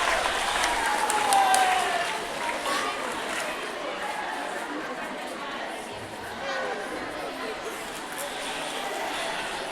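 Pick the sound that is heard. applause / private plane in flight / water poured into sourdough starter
applause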